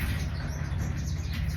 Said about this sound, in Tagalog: May nag-aaway na ibon.